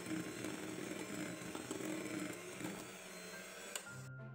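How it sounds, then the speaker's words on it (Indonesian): An electric hand mixer runs at low speed through cake batter with flour and baking powder for cassava putu ayu, a steady, fairly faint motor whir with beater rattle that cuts off abruptly at the end. "Mixer kembali dengan kecepatan rendah, cukup sampai tercampur aja ya."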